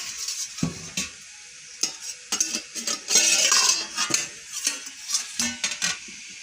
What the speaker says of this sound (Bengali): 15 মিনিট পর আমরা ঢাকনাটা তুলে দেখছি